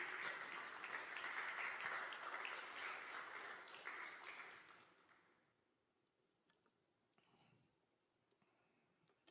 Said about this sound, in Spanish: Denle un gran aplauso al Señor.